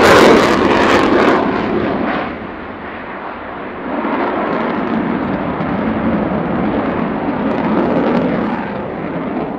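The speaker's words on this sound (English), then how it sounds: "the Lyulka, or now Saturn, AL-31F turbofan engines are certainly providing thunderous performance" A Sukhoi Su-27 fighter with AL-31F turbofan engines roars past at an air show, a loud, broad, thunderous jet rush that peaks early, dips, then swells again and holds steady.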